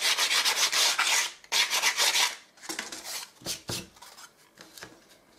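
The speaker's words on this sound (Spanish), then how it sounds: "le vamos a pasar una lija para que quede más suave" Brisk rasping strokes of sandpaper on a wooden frame edge, several quick back-and-forth passes, then lighter scattered rubs, close and fairly loud with no talking.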